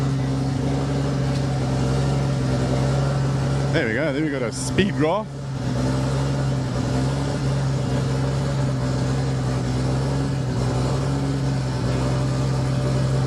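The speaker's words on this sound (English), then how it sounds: "That noise in the background is Wade's car that's just started." A hill climb race car's engine idles steadily in the background after starting, a low continuous drone that sits beneath close conversation throughout.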